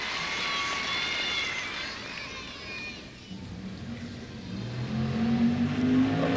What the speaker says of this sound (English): with a little engine noise in the background